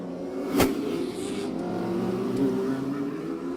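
Race cars roar around Plymouth Speedway at night, a sustained loud engine drone with a sharp burst near the start and a swell of revving as cars pass.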